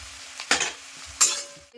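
Green chilli, cumin powder and chilli powder frying in oil for a Bengali fish curry: a soft sizzle broken by two sharp metallic clinks of a spoon against the pan, close by, with no talking.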